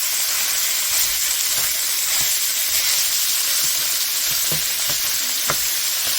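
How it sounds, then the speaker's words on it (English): Ground beef sizzles loudly and steadily in a hot pan, with occasional pops and scraping stirs over the constant hiss. "we're going to add it to the pan here and start frying it up."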